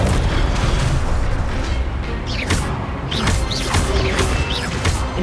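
Rumbling blast of an Incendio fire spell in Hogwarts Legacy, a loud, continuous roaring burst of explosive noise filling the whole stretch, with short whooshing spell effects layered on top.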